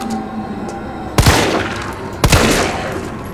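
Two loud, close gunshot bursts in the Resident Evil 3 demo, about a second apart, each with a ringing tail over low game ambience.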